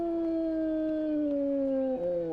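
A zombie dog in the survival game HumanitZ lets out one long, loud, sustained howl that slowly slides downward in pitch and breaks lower near the end.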